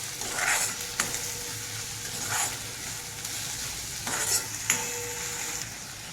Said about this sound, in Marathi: कांदा आपला छान परतून झालेला आहे आता मी त्याच्यामध्ये टमॅटो ॲड करते